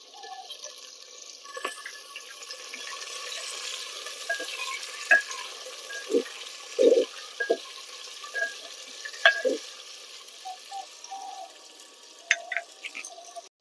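Onion and tomato fry in a pan for a handi chicken curry, with a low steady sizzle broken by several clinks and scrapes of a utensil stirring against the pan.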